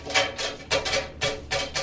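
A voice mimics scratching and banging noises, like a squirrel loose inside a house, in four quick, rhythmic breathy bursts, close and fairly loud.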